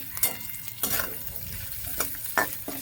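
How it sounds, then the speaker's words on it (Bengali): Onions and green chillies frying with a little salt are stirred gently, a low sizzle broken by a few distinct scraping strokes of a spatula, close and fairly quiet with no speech. "এবার আমি নাড়িয়ে নিচ্ছি হালকা করে।"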